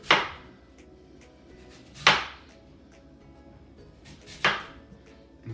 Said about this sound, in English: I just cut away from the core of the apple